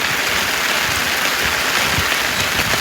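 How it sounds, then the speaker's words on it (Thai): Rain falls steadily and loudly at a fishing pond, making a dense, even hiss of drops that fills the whole stretch with no voices. "ตอนนี้ฝนก็ตกอีก"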